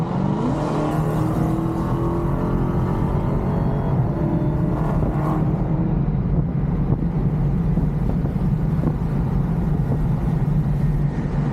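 Strong, steady wind roar buffets the cabin of a moving Dodge Hellcat-swapped car on a Dallas drive, loud and continuous throughout with a low engine rumble underneath and no talking.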